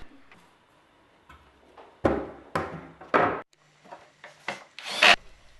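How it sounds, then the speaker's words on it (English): MDF panels are screwed into place on metal stud track, a series of loud, close bursts of power-driver whirring and screw grinding into board, separated by short pauses and softer handling noises. "One by one, screw the MDF panels into place."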